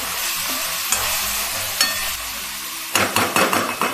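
Tomato thecha frying in a pan sends up a steady, loud sizzle, then a spoon stirs and knocks against the pan in quick, close scraping strokes toward the end, with no talking.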